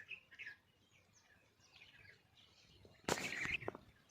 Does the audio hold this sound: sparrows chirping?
yes